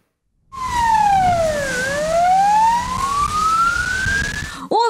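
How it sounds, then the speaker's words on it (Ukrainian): An emergency vehicle siren wails nearby, sweeping down and then back up in a loud, continuous tone before it cuts off abruptly. "Увімкнені проблискові маячки та сирена – то карета швидкої, патрульний «Пріус» або ж машина з пожежними."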